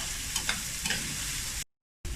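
Garlic, ginger and onions stir-frying in a pan with a steady close sizzle and a few scraping stir strokes, alone without talk, cut off briefly near the end.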